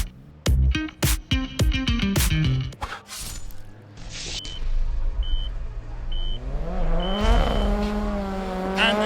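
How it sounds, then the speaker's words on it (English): Rear-wheel-drive race cars rev hard in a series of sharp throttle blips, then launch with engines climbing in pitch and tyres squealing, loud and close throughout. "Tyres are lit as they launch down the straight there."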